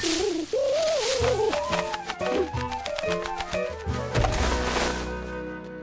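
A cartoon pigeon gives a warbling coo over a bouncy orchestral score, the bird call wavering at the start before the music carries on with plucky hits and a sustained closing chord.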